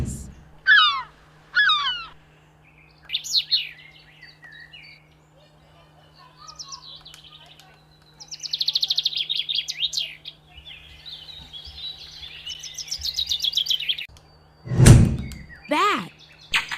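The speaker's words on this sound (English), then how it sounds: "Seagulls." Seagulls calling in a series of short, shrill, repeated cries with quiet gaps between them, ending in a loud thump and a final call.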